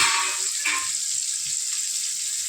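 Steady hiss of frying in a pan after chopped tomato is added for a Tamil Nadu style aaku pappu sambar, constant close sizzle with faint stirring scrapes underneath.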